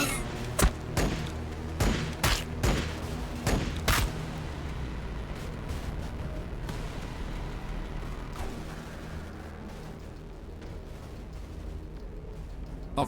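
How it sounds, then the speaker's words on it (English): Gunfire and explosions in Warhammer 40,000 Battlesector come as a string of sharp, loud cracks and thumps over the first few seconds, then fade into a dense, rumbling battle backdrop. "Under fire! Taking fire!"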